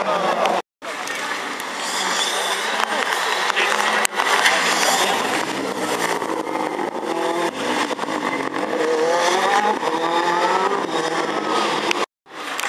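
Several rally cars race past on a circuit, among them a DS3, engines roaring loudly and continuously with rising and falling revs as they pass close by, broken by two brief gaps.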